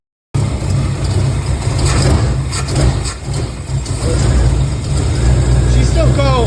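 A cold 305 small block Chevy V8 in a budget street truck idles steadily while warming up, a low continuous rumble close by with some hiss and clatter over it, running the whole time after a brief silent start.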